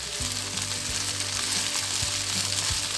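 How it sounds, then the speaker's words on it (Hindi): Okra frying in a modest amount of spiced oil, a bright continuous sizzle with a few soft knocks of a spatula against the pan, close and steady, no voices. "भिंडियों को हमने इतना फ्राई करना है कि ये हल्की हल्की गोल्डन हो जाए।"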